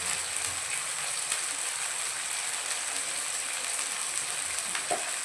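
Vegetable spice mix and chili powder sauté in hot oil, making a dense, continuous close sizzle that holds steady for several seconds with a faint scrape near the end.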